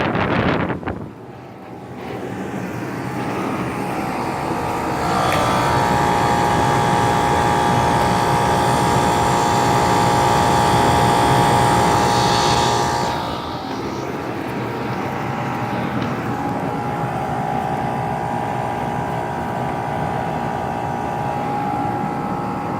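A 2006 Rheem Classic upstairs air conditioner runs with a loud, steady whooshing roar and mechanical hum. The sound swells and then shifts to a slightly quieter steady drone about midway.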